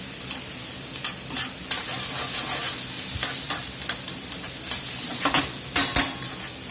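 Onion and bell pepper sizzle steadily in a skillet over a beef fond, with scattered spoon stirs and scraping against the pan, loud and close with no voices.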